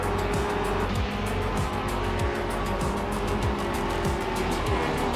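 A Seat Leon TDI race car in a video game race roars loud and continuous, its engine note climbing and dropping in repeated sweeps as it shifts through gears, with faint tire noise underneath.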